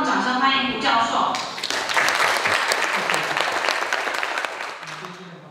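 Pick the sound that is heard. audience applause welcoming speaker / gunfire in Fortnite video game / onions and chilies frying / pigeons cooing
audience applause welcoming speaker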